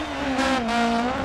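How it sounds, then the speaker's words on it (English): Volkswagen Golf rally car in a digital rally game: a steady, loud engine drone with a clear sustained pitch that dips slightly as the tires work the track surface, alone with no talk. "it sounds nice as well from the Volkswagen Golf"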